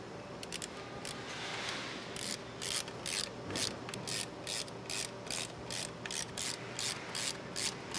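A hand ratchet tightens the cover screws during a Magura hydraulic clutch conversion on a Harley Sportster, with quick rhythmic bursts of clicking that repeat in even strokes, close and clear.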